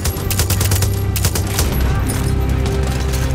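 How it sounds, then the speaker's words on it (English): Bursts of gunfire crack and boom in Far Cry 6 as shots are aimed at a tank. The rapid, loud volleys come close together throughout, and a voice speaks briefly over them. "Oh, I can shoot his tank from here."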